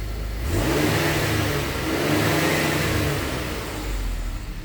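A 2013–2019 Ford Flex EcoBoost engine running in neutral after a throttle body change, a steady close engine hum with a couple of gentle revs rising and falling, no talking.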